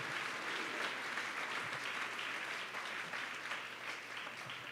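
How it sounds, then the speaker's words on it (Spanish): A church congregation at the Aviva 2020 convention applauds for several seconds in a dense, continuous wash of clapping. It sounds somewhat distant and even in level, with no voices standing out. "Vamos, aplauda a su Señor."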